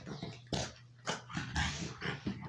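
A hyper American Bully dog gives a handful of short, loud barks and yips in quick irregular bursts, close by, with no talk.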